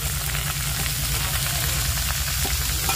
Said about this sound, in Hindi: पपीते को भी भूनेंगे थोड़ी देर तक आलू के साथ